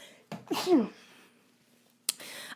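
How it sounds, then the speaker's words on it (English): A single sharp sneeze bursts out close by, preceded by a quick inhale, followed by a brief breath. "I have to sneeze"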